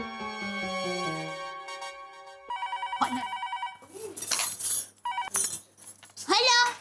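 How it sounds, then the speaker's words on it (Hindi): A telephone bell rings in a scene from the TV comedy Taarak Mehta Ka Ooltah Chashmah. The loud electronic ring comes in repeated bursts, then gives way to talk, comedic sound effects and clinks. "सीडी भाई का फोन है।"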